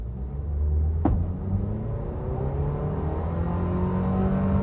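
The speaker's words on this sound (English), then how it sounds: "I'm trying to do a 0 to 60 again" A 2026 Nissan Sentra SL engine accelerating from 0 to 60, a steady rising drone heard from inside the car as the pitch climbs through gears, with a short click at the start.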